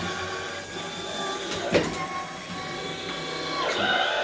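Motorized platform prototype whirring steadily as it turns through a rotation sequence, a close mechanical hum with faint clicks and shifting pitch.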